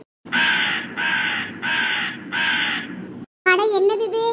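Four harsh, evenly spaced caws from a cartoon crow, loud and close, each a drawn-out rasping call, followed after a brief gap by a voice speaking.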